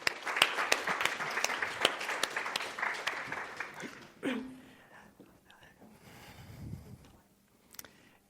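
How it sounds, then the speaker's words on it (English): Audience applause fills the first four seconds, a dense run of claps that stops abruptly and gives way to quieter murmuring and faint shuffling. "please give him a big round of applause."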